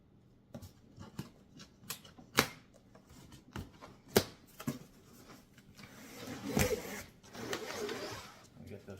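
Cardboard shipping box for a tibialis anterior exercise machine being opened up close, with sharp tearing and scraping snaps spread unevenly, then a longer crinkly rustle of packing material, and faint talk in between.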